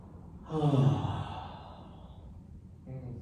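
A deep audible exhale or sigh during a guided movement practice, one long breath out close to the mic, followed by a shorter breath near the end.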